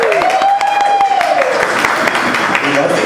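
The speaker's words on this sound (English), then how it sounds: "Round of applause for pro bono." A cafe audience at a drag queen storytelling show breaks into loud, sustained applause with a rising and falling whoop and cheers mixed in, close and full throughout.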